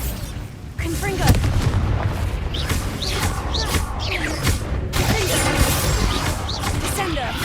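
Confringo fire-blast spells exploding in Hogwarts Legacy, a series of loud booming blasts and crashes over a dense battle din with a voice shouting spell names.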